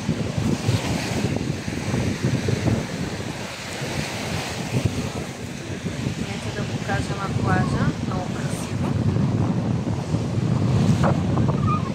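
Sea surf breaking on a beach with groynes in Pomorie, Bulgaria, a steady broadband wash of waves buffeted by wind noise on the microphone, continuous throughout while someone speaks over it.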